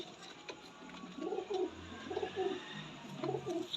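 A Golden Khaki pigeon pair coos up close, the soft, throaty calls rolling out in a repeated rhythmic series over a faint background hum.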